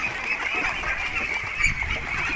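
Ducks at a backyard duck pond kept for eggs, quacking and honking steadily from close by, overlapping calls running without pause over a constant outdoor background.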